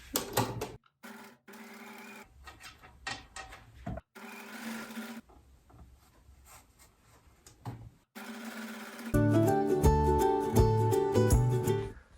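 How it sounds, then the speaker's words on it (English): A sewing machine stitches a crinoline flounce onto fabric in short stop-start runs, ending in a louder, steady stretch of motor whirr and needle clatter close by, with no talking. "I'm just going to gather it all up and lay it down onto the fabric here, and we're going to sew that down."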